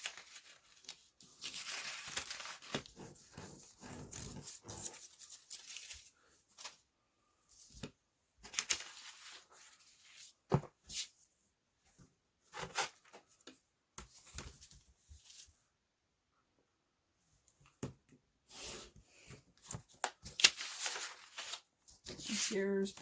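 Scissors snipping registration marks off printed quilt pattern paper, irregular bursts of close crisp cutting and paper rustle separated by quiet pauses.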